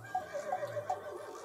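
A horse neighs in a quick, wavering whinny of several pitched pulses, fairly close and clear over a low steady background hum.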